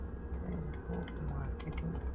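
Rapid keystrokes on a computer keyboard, an irregular run of light clicks at close range with faint background noise and a hint of a voice.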